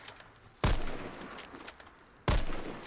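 Sniper rifle shots in the video game Warface: two loud, sharp cracks about a second and a half apart, each with a long, rumbling tail that fades over the quieter ambience of the match.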